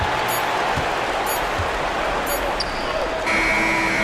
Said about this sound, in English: Oh, incredible buzzer beater there, guys.